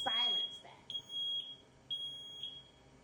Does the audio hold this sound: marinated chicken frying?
no